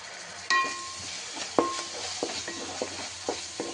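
Ginger garlic paste frying in a pan on a medium flame for crab curry, a steady sizzle with a spoon scraping and clinking against the pan several times, close and fairly loud, no talking.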